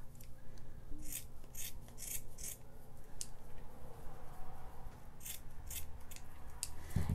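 Someone cuts away the bulk of a gourd, making soft scraping, rasping strokes close by that come in irregular short bursts over a steady low background.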